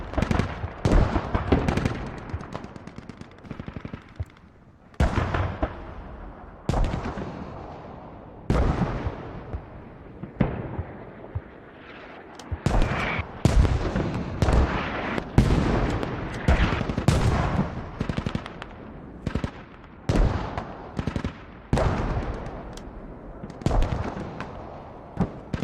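Mortar and artillery fire in a large-scale infantry war game, a steady barrage of booming blasts and sharp cracks, some near and loud, others distant, repeating irregularly throughout.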